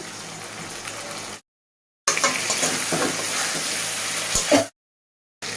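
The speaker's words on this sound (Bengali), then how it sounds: "ভাজা তো হয়ে গেছে একটু টমেটো দিয়ে দিলাম" Tomato added to a frying pan for a panch phoron fish curry, sizzling and stirring heard close in two bursts separated by silent gaps, ending with a short clatter.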